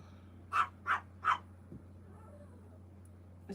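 Dogs at home bark at another dog across a gate in three quick, evenly spaced barks at moderate distance, followed by a faint thud over a steady low hum.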